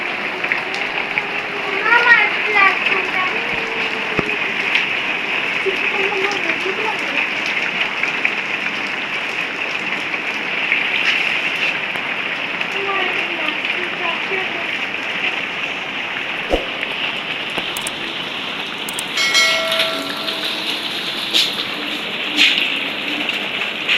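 Steady rain hisses throughout, a constant wash of noise, while people talk faintly underneath.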